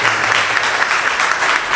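Audience applause at a book launch for a Brazilian author, a short dense burst of clapping from a room of people, loud and continuous throughout.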